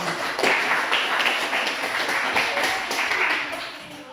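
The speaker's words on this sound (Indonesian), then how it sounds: "Ya, tepuk tangan untuk dia." A classroom group applauds a student presenter, giving a dense, steady patter of many hands clapping at moderate loudness, tapering slightly toward the end.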